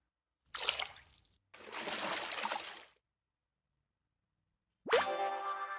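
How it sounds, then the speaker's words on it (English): A few water drop and dripping splashes in separate bursts, followed after a pause by a single bright, ringing plink that decays slowly. "there's some actual water drop sound effects in here"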